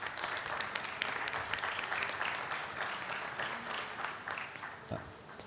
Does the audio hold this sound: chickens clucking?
no